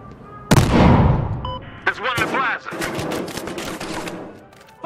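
Shooter video game gunfire rings out as a loud blast followed by rapid automatic bursts, mixed with shouted voices talking over the shots.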